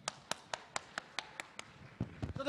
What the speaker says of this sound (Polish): zróbcie brawa dla ochrony.